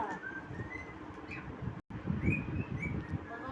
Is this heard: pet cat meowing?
no